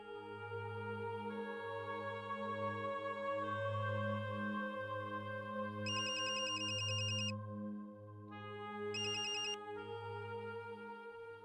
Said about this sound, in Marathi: चित्रा, गावाहून दादांचा फोन आला होता.